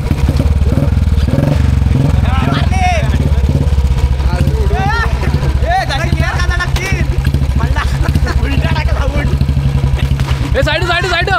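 A motorcycle engine running loud and close, with a steady low chugging rumble throughout and rattling clatter, while several people talk and shout over it.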